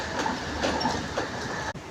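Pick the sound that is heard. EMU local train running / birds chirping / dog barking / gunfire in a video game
EMU local train running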